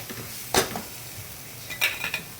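A spatula scrapes and knocks in a pan as a mix is sautéed for a chickpea dish, two bursts of stirring over a soft background sizzle, close by with no talking.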